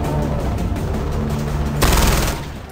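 Dense, loud, continuous gunfire from the video game Far Cry 4 as a sniper is killed, with a sharp heavy blast near the end followed by a fading rumble.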